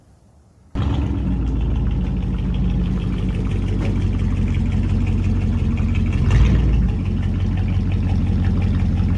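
A 1998 Chevy Silverado pickup truck engine suddenly starts up and runs at a loud, steady idle, close by, with a brief rev partway through.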